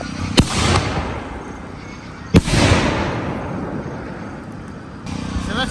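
Fireworks set off in a yard, two sharp close blasts at intervals, each followed by a long crackling, hissing shower that slowly fades.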